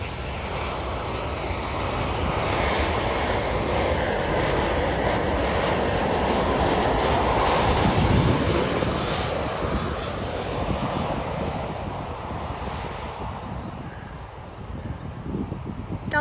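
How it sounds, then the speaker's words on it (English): An American Airlines Boeing 737-823 landing at Chicago O'Hare: a sustained, broad jet roar that swells toward the middle and fades slightly near the end, steady and fairly close, with no voices. "We got a Boeing 737-823 American Airlines arriving in from Dallas,"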